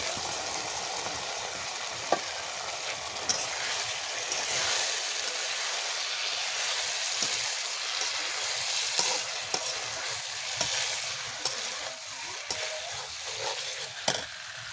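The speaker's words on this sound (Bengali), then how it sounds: "চিংড়ি মাছগুলো আমি লবণ এবং হলুদ দিয়ে আগে থেকে গরম করে নিয়েছি, এই মশলাতে দিয়ে দেবো, দিয়ে ভালো করে কষিয়ে নেব।" Bagda prawns, salted and turmeric-coated, frying in spice masala for a coconut-milk prawn curry, a loud continuous sizzle with occasional stirring scrapes and taps of the spoon throughout.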